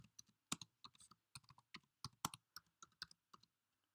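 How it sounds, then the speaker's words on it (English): A password being typed on a computer keyboard, a quick irregular series of close, crisp key clicks with short gaps, quiet and with no voices. "type in my password"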